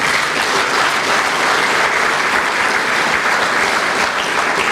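An audience at a Macedonian Chamber of Commerce address breaks into applause, a dense, even wash of many hands clapping loudly and continuously with no pauses.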